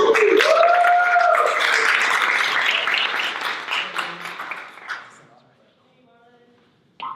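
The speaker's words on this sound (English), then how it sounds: "Give them a round of applause." An audience at a tech and social justice event applauds, the clapping loud at first and then tapering off to near silence, with a rising whistle-like tone and some voices mixed in.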